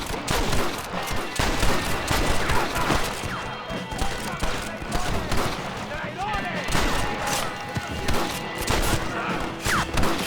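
Dense gunfire rattles continuously through a Red Dead Redemption firefight, rapid shots and bursts layered loud and close, with shouting voices mixed in throughout.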